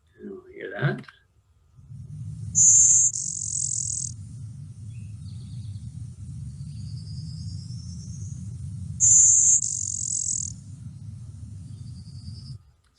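A buzzy bird song with a rough, raspy bee-like timbre, made of two loud, high, wheezy buzz phrases several seconds apart over a low steady hum. A brief voice comes at the start.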